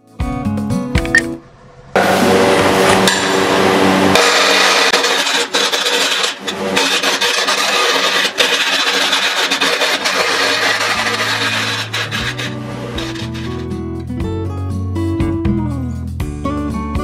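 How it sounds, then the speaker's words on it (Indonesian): A lathe turns a wooden block into a cylinder, its motor starting with a click and then running as a loud, steady whine and rumble broken by brief cutting scrapes, fading into lower mechanical hums near the end. "Setelah balok siap terpasang pada mesin bubut, kita akan membentuk silinder."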